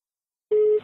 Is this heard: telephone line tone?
yes